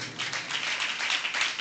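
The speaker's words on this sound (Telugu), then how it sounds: "విడిచిపెట్టని దేవునికి చప్పట్లు కొట్టు." A church congregation claps for God in a brisk burst of applause, many hands patting quickly and evenly at moderate loudness, with no voices over it.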